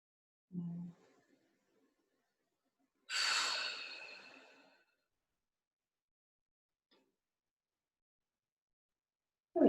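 A person exercising during an ankle workout breathes out, a soft brief low breath followed by a longer, louder airy exhale, then near silence with a faint click and another breath starting at the end.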